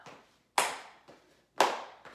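Hands clap during a jazz dance routine: two sharp, close claps separated by softer taps, with quiet gaps between.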